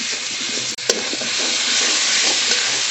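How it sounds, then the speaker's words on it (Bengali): Fried potatoes are stirred into bubbling spice paste in a pan, making a loud, continuous close-up sizzle with a couple of quick spatula scrapes early on. "এবার একটু নেড়ে নেব।"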